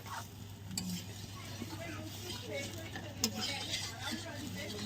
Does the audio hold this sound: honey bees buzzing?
no